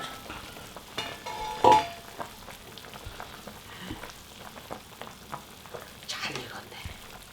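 Pork backbone soup (gamjatang) simmering in a pot at home, a soft steady bubbling hiss with a brief louder burst near the start and faint murmured voices underneath.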